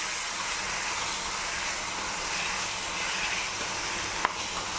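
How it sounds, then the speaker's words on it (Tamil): Raw banana pieces sautéing with masala in a hot pan, giving a steady close hissing sizzle that holds evenly throughout, with one brief clink of a utensil near the end and no talking. "இப்போது நம்ம வச்சுருக்க மசாலாவை இதில் போட்டு நல்லா வதக்கணும்."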